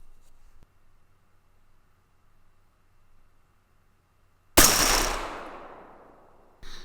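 An outdoor accuracy test of a rifle firing M855A1 rounds: after near silence, one loud, sharp shot rings out with a decaying tail, and a second shot follows about two seconds later.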